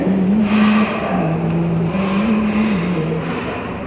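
A Hero motorcycle engine idles and revs up and down in a steady, close, loud drone, rising and falling in pitch over a few seconds with no talking.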